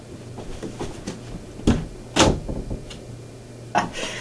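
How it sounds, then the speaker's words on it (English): Soft knocks and bumps of a door being handled, a few brief thuds against a faint background hiss, close by and fairly quiet with no talking. "I'm just walking to the door."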